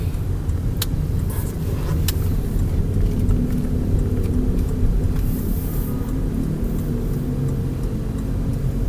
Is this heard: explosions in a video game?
no